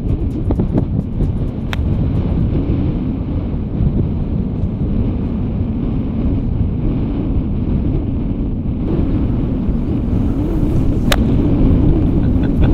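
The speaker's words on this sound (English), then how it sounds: "Wind coming heavy off the left" Strong wind buffets the microphone on an open links golf course at Machrihanish, a loud, steady low roar gusting throughout with no voices.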